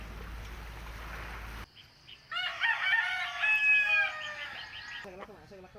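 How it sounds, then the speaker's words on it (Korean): A rooster crows in the morning at a remote rural home, a long, loud, ringing cock-a-doodle-doo heard alone after a stretch of hissing background noise. "닭울음 소리가 아침을 깨운다."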